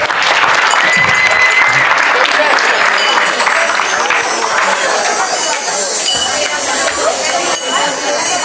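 Loud, sustained applause from an audience at a Jain puja ceremony in Dadar fills the air without a break, with crowd chatter and faint clinks mixed in.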